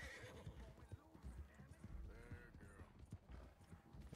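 A horse in the Red Dead Redemption 2 video game gallops with quick, rhythmic clip-clop hoofbeats and lets out a neigh. The sound is quiet but busy, with a voice faintly in the mix.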